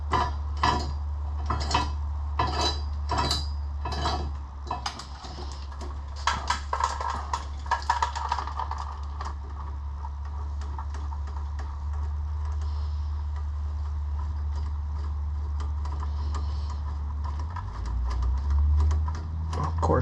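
A wrench ratchets with rapid metallic clicks while a bolt is loosened to pull the 16-valve engine from a Mk2 VW Golf GTI. The clicking comes in quick bursts over a steady low hum.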